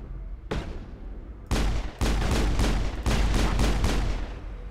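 Pistol fire in the Mass Effect video game: a few single shots, then quick bursts of loud, sharp reports close together, with no talking.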